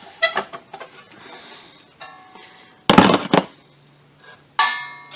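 Bolts are being removed from the heat shield of a 2012 Subaru WRX. Sparse metallic clinks and rattles of tools are heard up close, with a sharp louder burst in the middle and quiet gaps between.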